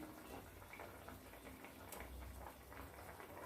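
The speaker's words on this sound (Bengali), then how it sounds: "আমার ঝোলটা ফুটে উঠেছে।" Bengali mango-katla curry made with raw mango bubbles in a pan, giving a soft, continuous simmering hiss with small pops, close and faint, with no talking.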